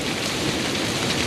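A Kansas rain storm with hail falls as a loud, dense, unbroken hiss of heavy rain, close and steady throughout the short stretch, with no voices.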